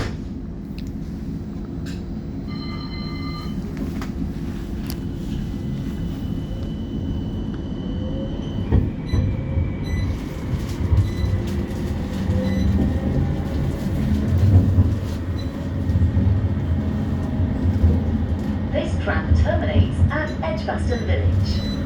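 A West Midlands Metro tram pulls away from Library stop toward Brindley Place, its low rumble and motor hum building steadily over the ride, with brief electronic chimes early on and wheel and rail noise growing louder inside the car.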